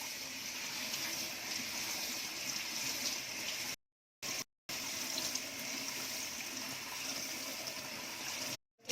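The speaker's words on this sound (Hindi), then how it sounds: "फवे भी अपने ऐसे जल्दी जल्दी धो के लेने के" Flattened rice (poha) rinsed quickly under a running tap in a kitchen, a steady broadband rush of water that cuts out briefly twice and again near the end.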